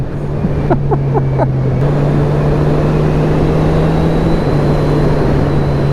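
A Honda CB1000R motorcycle engine ridden with early short shifts gives a steady, low droning hum that holds nearly level, with slight pitch steps as gears change, and no talk over it.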